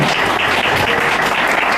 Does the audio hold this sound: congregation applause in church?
yes